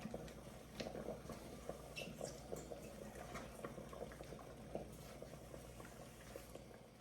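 Water coming to a boil in a pot used for melting milk and dark chocolate with peanut butter chips: a quiet, continuous bubbling and gurgle with soft pops, heard alone.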